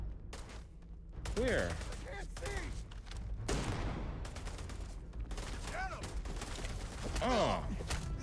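Gunfire in the video game Starfield: bursts of shots crackle through the clip beneath a busy game soundscape, with a voice speaking briefly over it.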